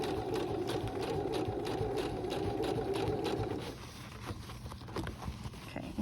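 Sewing machine stitching through fabric for a crossbody bag, a fast steady motor whir with rapid needle ticking for a few seconds before it slows and quiets, close and fairly faint.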